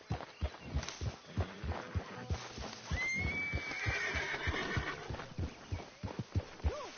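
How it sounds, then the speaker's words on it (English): A horse whinnies loudly in the middle of Red Dead Redemption 2 gameplay, a long rising-and-falling neigh set against steady rhythmic thumping and background game ambience. "That horse will soil the camp. Remove it."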